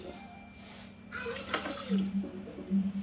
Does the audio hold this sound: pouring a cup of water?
yes